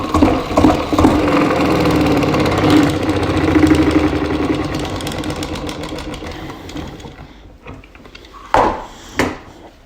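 A centrifuge mop spinner repurposed as a honey extractor whirs loudly as honey frames spin inside, a rough mechanical rumble that slowly winds down, followed by a couple of knocks.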